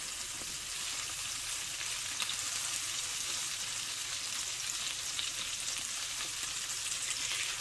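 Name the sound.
homemade hash browns frying in butter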